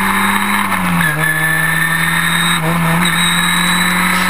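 Historic Formula Ford race cars leave the starting line at Silverstone, their engines loud and close, droning with rising pitch and short dips at gear changes.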